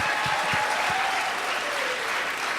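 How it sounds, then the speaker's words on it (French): Studio audience applause at a reality-show gala, a sustained even roar of clapping from a large crowd, loud and continuous with a few sharper claps near the start. "Ah non, ça mérite des applaudissements."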